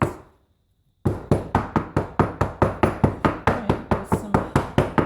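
Repeated firm knocks on a soap mould to release trapped air bubbles, about sixteen evenly spaced raps after a second of silence, close and loud with no talking.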